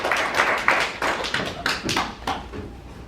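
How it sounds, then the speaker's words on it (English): An audience at a Korean Peninsula peace panel session applauds, a short burst of scattered, close clapping that thins out over about three seconds. "Round of applause."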